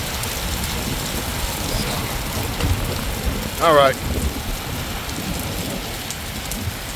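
Heavy rain pouring steadily outside in Pennsylvania, a dense constant hiss and patter with a brief chirping sound midway and a short spoken remark.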